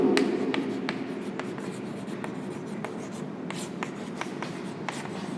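Chalk or marker scratching across a board during a physics lecture on electric potential, a series of short, crisp strokes and taps spaced irregularly over a soft room hum.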